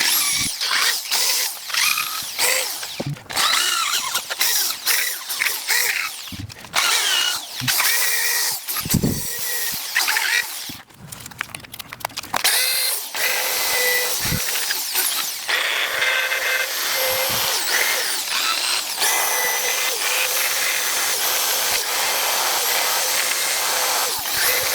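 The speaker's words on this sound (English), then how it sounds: "I'm going to get a wire brush and clean up some of this rust that's around here" Wire brush scrubbing rust from the front brake parts of a 2021 Ford Escape during a brake and rotor job, a loud, continuous rough scraping in uneven bursts with short pauses, mostly alone without talk.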